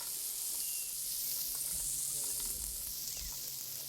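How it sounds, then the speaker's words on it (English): Meat kebabs with small pieces of fat between them sizzle loudly on a flame grill, a dense steady hiss with occasional pops and no talking. "in a second or two they will start to sizzle happily away"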